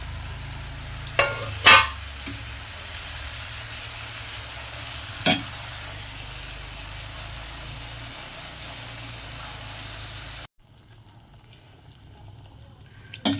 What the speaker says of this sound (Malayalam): ഇനി പുളി ചേർത്ത് കൊടുക്കണം പുളിവെള്ളം ചേർത്ത് മിക്സ് ചെയ്യാം